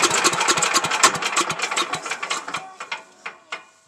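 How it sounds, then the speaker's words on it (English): A small motor on a leaf mulcher starts with a fast chattering run of pulses, then slows into a few spaced knocks as it winds down, close and loud with no talk. "Okay, I'm going to start the motor."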